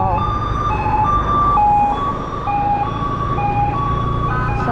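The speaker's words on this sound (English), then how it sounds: "there is an ambulance behind me" An ambulance siren wails loudly and close by in a lockdown-era street in Vientiane, Laos, its alternating two-tone pattern cycling steadily over traffic rumble.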